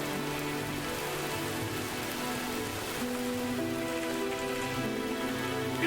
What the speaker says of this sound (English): Sound of that rain, Jesus.